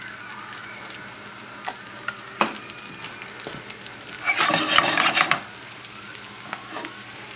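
Eggplant slices fry in oil in a pan with a soft continuous sizzle that swells into a brief louder crackling burst midway, then settles back to a quiet hiss.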